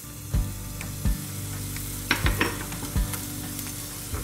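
Steady sizzling of garlic frying in hot olive oil in a pot, broken by a few sharp knocks and scrapes of a utensil against the pan.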